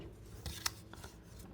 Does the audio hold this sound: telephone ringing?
no